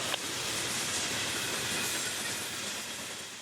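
A northbound freight train rolls along the East Main Track in Fort Pierce, Florida, at about 55 mph, producing a loud, steady broadband roar with hiss and wheel noise close by.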